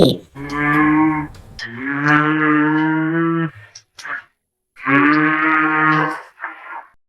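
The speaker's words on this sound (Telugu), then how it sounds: "ఆ అంటే ఆవు. ఆవు మనకి పాలు ఇస్తుంది." A cow moos: two long, loud, drawn-out lows with short grunting tails between and after them, close to the microphone with nothing else heard.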